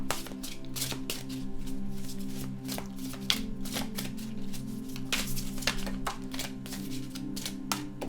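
Tarot cards are shuffled and drawn in a run of crisp riffles and soft slaps, with steady papery flicks and card snaps close to the microphone and no voices.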